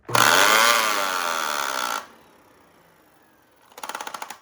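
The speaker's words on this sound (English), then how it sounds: "So you should hear a ratcheting noise in carpet mode" A loud Dyson vacuum motor whirs, then cuts out; after a quiet pause comes a short burst of rapid, rhythmic ratcheting clicks from the brush bar in carpet mode.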